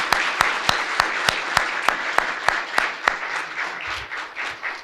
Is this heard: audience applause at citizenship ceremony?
yes